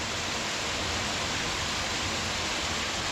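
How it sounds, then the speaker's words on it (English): Kilgore Falls, a 17-foot waterfall in Rocks State Park, Maryland, pours in a steady, loud, broadband roar that fills the whole clip without a break and with no voices over it. "Kilgore Falls is the second highest waterfall in Maryland."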